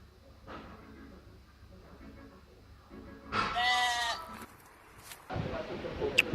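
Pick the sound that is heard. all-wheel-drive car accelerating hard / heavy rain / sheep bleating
sheep bleating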